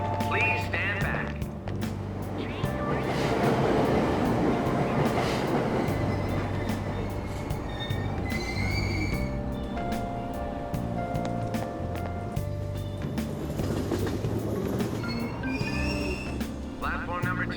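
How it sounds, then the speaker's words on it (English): In the Persona 5 Royal video game, a subway train pulls away from a station with rolling wheel clatter, rumble and squealing. Station announcements and chimes sound over it. "Train doors are now closing. Please stand back."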